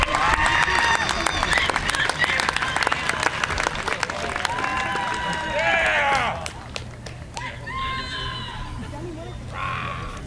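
Cheering and applause break out for a graduate at a 2024 tech school graduation ceremony, a dense crowd clapping with shouts and whoops for about six seconds before tapering to scattered claps and voices.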